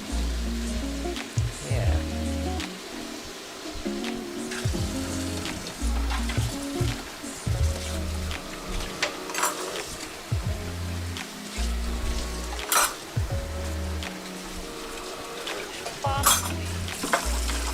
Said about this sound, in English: make sure that we get a good solid sear going